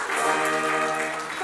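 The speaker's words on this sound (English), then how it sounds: "A round of applause for the first handing over." Applause from an audience at a ceremony commissioning and handing over the AfCFTA Secretariat to the African Union Commission, a broad steady wash of clapping, with a faint tone sustained beneath it.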